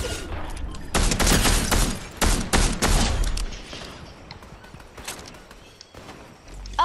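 Gunfire in the video game Fortnite: several loud, dense bursts of rapid shots packed close together near the start, then trailing off into quieter game noise.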